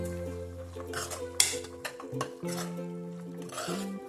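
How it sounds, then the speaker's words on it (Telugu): Washed pigeon pea seeds are stirred into oil in a pan, with a spoon scraping and clinking against the metal in short strokes over faint background music, quiet and close. "కడిగి అవి అయితే వేసేసుకుందాము అలా బాగా కలుపుకుందాము"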